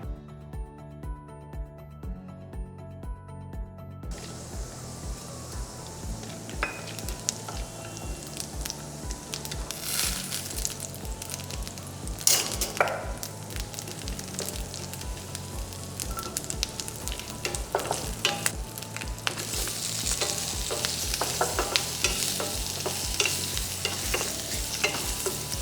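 Masala paste ingredients sizzle and fry in oil in a hot pan, with steady crackling and repeated stirring scrapes, close and prominent over a faint rhythmic background beat.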